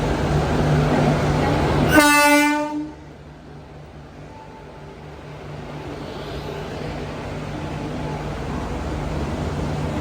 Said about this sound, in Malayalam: ഇതാണ് ഇവിടുത്തെ പാസഞ്ചർ ട്രെയിൻ.